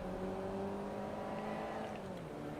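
Toyota Celica engine in the racing game Forza Motorsport 2 drones at a steady, moderately loud pitch during a Grand Prix race at Tsukuba, with a slight rise and fall in tone and no talking.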